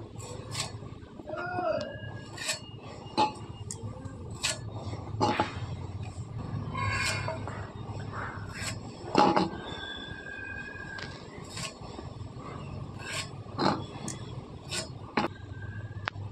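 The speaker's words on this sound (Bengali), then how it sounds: "কাঁচকলাগুলো কেটে নেব।" A knife slices green plantains for a vegetarian kofta curry, giving irregular sharp cutting clicks and scrapes spread over several seconds, close and fairly quiet.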